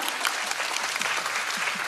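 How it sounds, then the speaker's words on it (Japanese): Audience applause at a stage musical's production press event for 'Memphis', a dense steady wash of clapping from a seated crowd, fairly close and continuous for the whole stretch with no voices on top. "ここ拍手かなと思ったんですけど"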